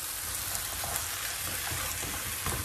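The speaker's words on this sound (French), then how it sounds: "Donc là, je vais à nouveau bien mélanger le tout." Chicken with canned tomato sizzles loudly in a hot pan as it is stirred, a dense continuous crackling hiss with faint scraping underneath and no voices.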